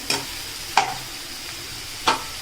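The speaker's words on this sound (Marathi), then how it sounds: "आता मस्तपैकी आपण कांदा पहिले शिजवून घेऊयात" Onion with salt cooking in a pan: a low continuous sizzle broken by three sharp spoon-stirring scrapes spaced apart.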